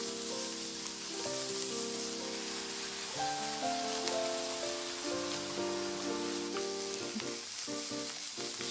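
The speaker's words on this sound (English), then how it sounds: "Stir fry until the pork completely turns white and the juices run clear" Ground pork stir-frying in a heated pan, a steady broadband sizzle running throughout with a continuous music bed layered over it; no voices.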